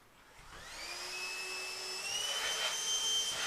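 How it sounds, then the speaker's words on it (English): A vacuum cleaner spins up and runs, a rising whine settling into a steady loud drone nearby, with no talking. "Okay, give me the vacuum."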